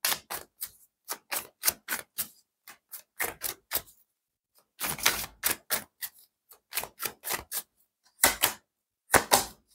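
Playing cards are shuffled close up on a tabletop that shakes with the motion, giving quick bursts of rapid papery riffles and taps separated by short pauses.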